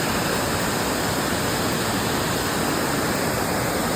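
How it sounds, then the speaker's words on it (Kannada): A small roadside waterfall in Chikmagalur roars in a loud, unbroken rush of falling water, steady and close with no talk over it. "ಇಲ್ಲಿ ಎಷ್ಟು ಫಾಲ್ಸ್ ಇದೆ ಅಂದರೆ ರೋಡ್ಗೊಂದು ಚಿಕ್ಕ ಫಾಲ್ಸ್ ಬರ್ತಾ ಇದೆ"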